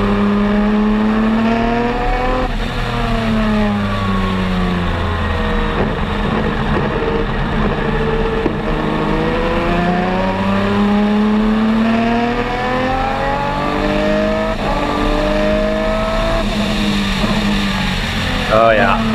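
A race car engine roars through test laps at Mid-Ohio, its pitch repeatedly sweeping up and down with gear changes and corners, loud and sustained across the whole stretch, with people talking over it.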